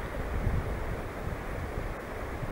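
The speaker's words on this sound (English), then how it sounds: "here comes the wind" Strong wind buffets the microphone outdoors by Pennsylvania's Juniata River, a continuous loud rumbling roar with gusty swells and no voices.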